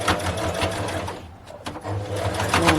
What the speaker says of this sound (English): you can stitch more than 2 times to secure your elastic.